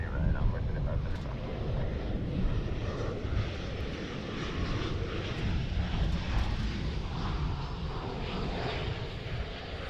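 Airliner engines roar steadily at DFW International Airport during planespotting, a loud continuous jet rumble with wind buffeting the microphone throughout.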